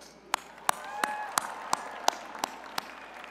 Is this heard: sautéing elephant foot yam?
no